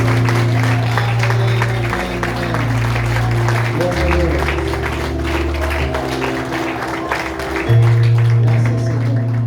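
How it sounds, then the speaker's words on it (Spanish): A church congregation claps loudly for the Lord in sustained, dense applause while a voice keeps speaking over it. "Puedes darle un fuerte aplauso al Señor"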